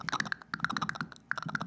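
Fast typing on a computer keyboard, close and crisp, bursts of clustered key clicks in quick irregular rhythm with a brief pause midway.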